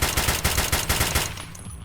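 SKS rifle firing in a video game, a quick rhythmic string of about eight loud, close shots at a steady pace, then stopping and leaving a fading tail.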